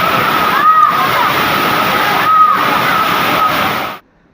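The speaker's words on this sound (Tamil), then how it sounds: "குற்றால அருவிகளில் திடீர் வெள்ளம்" Sudden flood at the Courtallam waterfalls, with a loud, continuous roar of rushing, splashing water close by, steady throughout before cutting out abruptly at the end.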